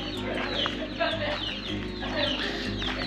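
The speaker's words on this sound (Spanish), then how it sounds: "Muchas gallinas y gallos." Chickens and roosters cluck and squawk close by in a busy flock in Pakse, Laos, with repeated calls over a low background hum.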